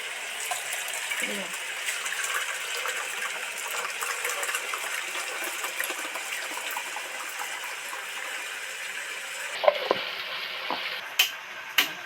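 Pointed gourd fries in a pan with a continuous close sizzle and crackle. Near the end a few sharp clinks and handling knocks break through.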